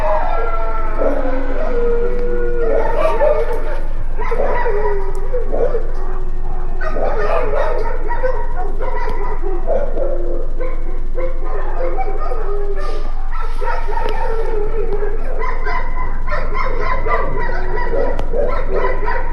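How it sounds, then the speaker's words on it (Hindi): Several dogs bark and yip nervously at night outdoors, picked up by a CCTV camera. The loud, overlapping barks and howl-like cries continue steadily with no pause. "ज्यादातर तो कुत्ते ही भौंक रहे हैं बस।"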